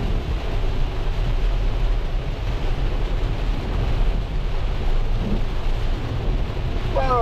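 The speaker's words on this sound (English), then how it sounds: "I cannot remember the last time I've been in rain this heavy." Heavy rain pounds steadily around a car on a country road trip in Australia, a dense continuous roar with deep low rumbling like thunder underneath, loud and unbroken throughout.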